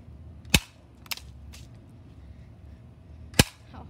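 Two sharp shots from a Crosman .177 caliber pump BB air rifle, well apart, each a crisp snapping crack with a short tail and a fainter click or echo after the first, over quiet background.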